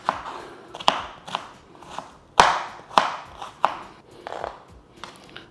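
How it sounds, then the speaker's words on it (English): A knife chopping onions into small pieces on a cutting board, giving a series of sharp, close knocks at an irregular rhythm, roughly eight or nine distinct chops with softer slicing between them and no talking. "I'll continue on cutting my onions in small pieces"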